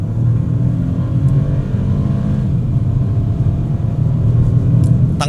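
A 2025 BMW 218 Gran Coupe engine accelerates under throttle, a loud, steady low rumble that builds, heard close from inside the car with no talk.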